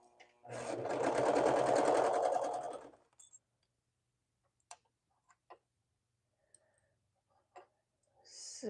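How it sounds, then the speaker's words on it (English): A sewing machine runs a steady buzzing stitch through layered fabric for about two and a half seconds, close and loud, then stops, leaving a few sparse clicks and ticks in near silence. "as I'm sewing these together, I just make sure that those layers stay together"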